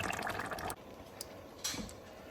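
Liquid poured into a pan of spaghetti with bell pepper, a soft broadband splash and trickle in two bursts with a quiet pause between, close and alone.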